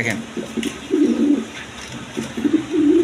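Exhibition pigeons in a loft, where a hen has just laid an egg, coo in repeated low throaty bursts close by, with brief pauses between calls and a faint voice in the background.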